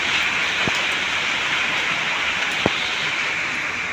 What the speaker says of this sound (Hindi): अभी 5 भी नहीं बजा और कितनी तेज बारिश हो रही है